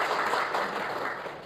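Church congregation applauding for Jesus during a sermon, a broad wash of clapping at moderate volume, steady and fairly distant for the whole moment.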